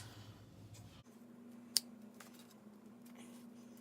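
A single crisp snip of scissors cuts through short synthetic braiding hair, sounding close against a quiet, faintly humming room.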